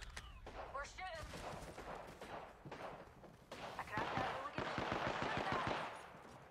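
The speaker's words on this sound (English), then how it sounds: "We're shooting." Rapid bursts of automatic gunfire in the video game Apex Legends crackle in repeated volleys, mixed with in-game effects while players talk over the action.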